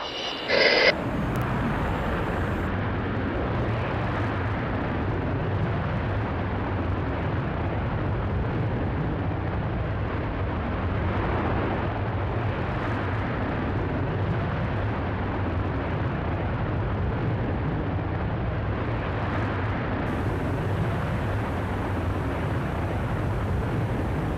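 A Virgin Galactic spaceplane's rocket motor fires after release on its first fully crewed spaceflight, a steady, loud, dense roar that holds unbroken for over twenty seconds with no voices over it.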